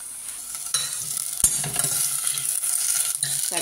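Potato and green chilli sauté and sizzle in a pan for cluster beans curry. A spoon scrapes and stirs steadily with a few sharper knocks, and the hiss stays close and continuous, with no voices.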